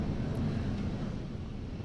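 Falcon 9 rocket climbing toward max Q, a steady broad low roar with rumble dominating, continuous and fairly distant, with no voices.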